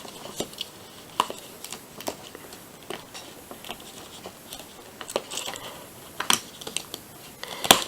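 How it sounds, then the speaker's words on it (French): Scissors snipping through plastic packaging, a series of sharp irregular clicks and crisp snaps, close up with rustling between cuts. "ça je vais essayer de le couper avec les ciseaux"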